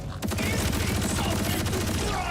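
Sustained automatic gunfire empties a full magazine in Borderlands 4, a dense, loud, continuous stream of rapid shots with no pauses, heavy low-end thump throughout.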